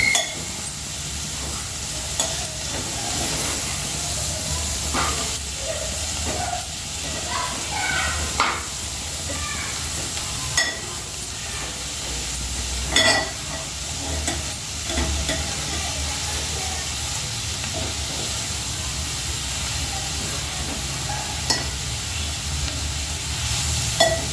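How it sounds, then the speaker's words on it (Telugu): Chana dal and garlic frying in a pan, a constant crackling sizzle with repeated spatula stirs and scrapes over about twenty-four seconds, close and moderately loud, without speech. "ఈ శనగపప్పులు మంచిగా ఇలా ఫ్రై అవుతా, మంచిగా ఇవి ఎల్లిపాయలు మంచిగా ఇలా ఫ్రై అవుతుంటే చాలా బాగుంటుందండి"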